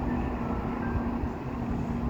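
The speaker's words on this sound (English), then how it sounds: "Catch the train. Here's the train." A train running along elevated tracks past low-rise old houses near a station in Sri Petaling, heard as a steady, broad rumble with a faint hum, continuous and moderately distant, with no voices.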